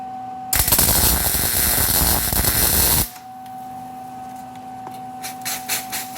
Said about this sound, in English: And the first thing I'm going to have to do is crank the welder way up.